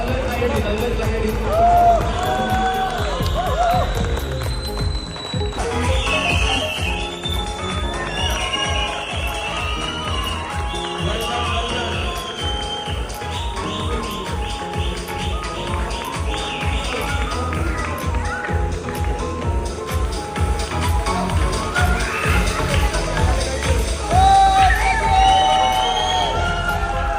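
A crowd at a trophy final claps and cheers loudly and continuously, with shouting voices and music-like tones running over a dense bed of applause.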